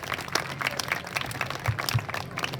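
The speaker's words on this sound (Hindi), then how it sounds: "तो एक बार आप सभी विद्यार्थी अपने लिए जोर से तालियां बजाइए अपने श्रेष्ठ प्रदर्शन के लिए" Students at a KVS national sports meet closing ceremony applaud, producing dense, moderately loud clapping that ripples on without pause for a few seconds.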